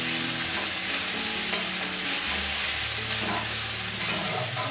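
Chopped onion frying in a pan for a sour and spicy pumpkin curry, with a steady close sizzle and the scrape and clatter of stirring running continuously throughout.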